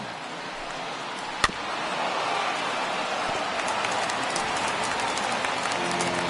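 Steady, loud crowd roar from a simulated baseball stadium in a Pirates versus Reds video game, with about 24,000 fans rising to their feet; one sharp crack rings out early, and the wash of noise swells slightly and then holds.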